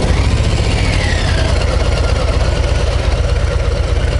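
Low Rider ST motorcycle engine idles loud and close, a steady throbbing low rumble with an even pulse throughout and no voices.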